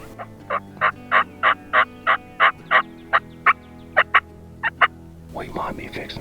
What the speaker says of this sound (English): these gobblers over to the right are getting closer